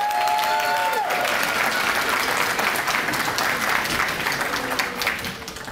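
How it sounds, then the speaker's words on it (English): Audience applause at a National Adoption Day celebration in a hall, sustained clapping from a large crowd that stays steady and full for several seconds, with a brief tonal sound fading out near the start. "Could we give them a round of applause?"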